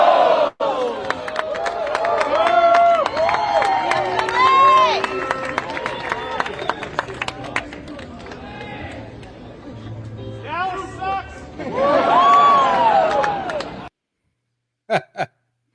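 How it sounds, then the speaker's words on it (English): A crowd cheers and shouts at a Philadelphia Eagles serenade, the recording played back loud with whoops and overlapping voices swelling and dipping for about fourteen seconds, then cutting out to silence before a few brief bursts. "they started cheering after they said it"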